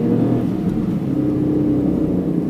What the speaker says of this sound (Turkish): 6 silindirli bir araba gibi ses çıkarıyor